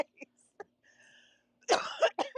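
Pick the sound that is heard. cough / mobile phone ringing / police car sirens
cough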